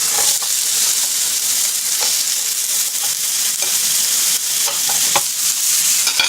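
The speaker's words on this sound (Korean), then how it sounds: "소고기를 여기 이제 후라이팬에다 구우시면 돼요" Beef sirloin sears in a frying pan with a steady, bright sizzle and crackle, punctuated by occasional stirring and scraping, close up and without voices.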